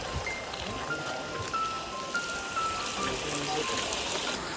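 Steady rain falls in a Konkan village, a continuous even patter on surfaces with no pauses, close and moderately loud.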